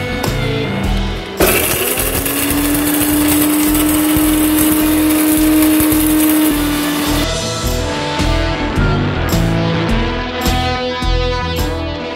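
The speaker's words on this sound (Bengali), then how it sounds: "এইবার এই মশলাটা মিক্সিতে যাবে।" A mixer grinder whirs loudly and continuously as it grinds dry-roasted spices for Champaran-style handi mutton, a steady high motor whine that starts abruptly, holds for several seconds, then cuts off to a winding-down rattle.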